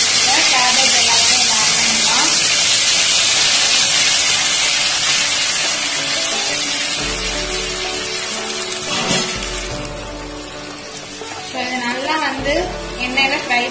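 Cabbage mix fries in plenty of hot oil in a kadai, a loud, steady hiss and sizzle that softens slightly midway, with occasional stirring clinks and low thumps near the end.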